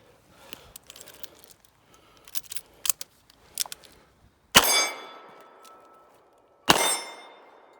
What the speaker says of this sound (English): Oh my, bullets fell out.